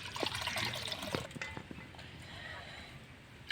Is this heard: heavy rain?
no